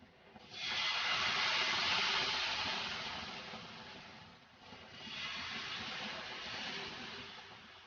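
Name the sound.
vermicelli dosa cooking in oil on pan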